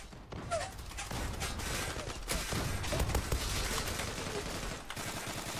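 Gunfire in the online shooter Zula, with the MPT-76 Kaos Elite rifle: dense, sustained bursts and rattling volleys keep up almost without pause, loud and close, with faint mechanical clicks in the mix.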